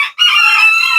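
Kadaknath Jet Black rooster crowing loudly and close by, one sustained cock-a-doodle-doo that rises after a brief catch and holds steady to the end, with no other sounds.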